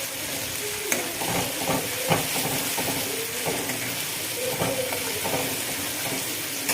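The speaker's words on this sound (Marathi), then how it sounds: "हे मसाले टाकून घेते ते पण छान तेलावर एकदम खरपूस तळून घ्यायचं आहे आपल्याला" Spices frying in oil for a chicken sukka, a constant close sizzle with soft scraping stirs of a utensil in the pan repeating every second or so.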